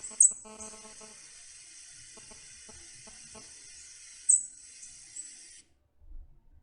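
Black-and-white warbler flight calls: two very brief, thin, high-pitched notes, several seconds apart, over a faint steady hiss in otherwise quiet surroundings.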